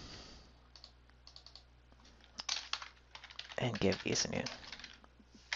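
Computer keyboard keys tapped in quick bursts while renaming sheets in Revit, soft close clicks that grow busier toward the end, partly under a man's brief speech.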